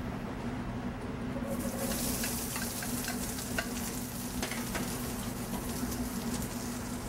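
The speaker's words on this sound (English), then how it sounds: "And you can hear there's a nice sizzle, a nice hot pan will make all the difference." White Spanish onion and garlic sizzle in a hot paella pan, a steady crackling fry close up with occasional stirring scrapes and no talking.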